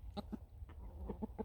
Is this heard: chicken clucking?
yes